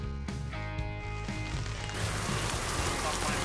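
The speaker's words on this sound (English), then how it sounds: "The rain caught us on 15." Heavy rain pours onto a Florida golf course in summer, building from patchy drops into a dense, loud wash of downpour that fills the whole scene, with faint tonal hum early on.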